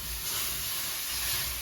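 Pasta water hitting a hot pan of chow mein noodles for a beef stir fry, a loud steady hiss and sizzle of steam that holds constant throughout with no voices.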